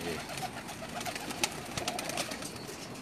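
Pakistani pigeons on a rooftop in Jeddah, Saudi Arabia, with soft cooing calls over a steady outdoor background hiss, close and moderately loud throughout.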